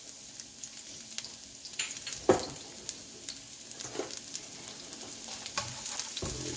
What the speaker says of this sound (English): So we have the oil in here. Let's start with our rough chopped garlic.